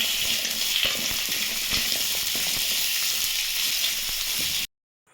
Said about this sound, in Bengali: আলুটাকে তেলের সাথে ভালোভাবে মেরে নেব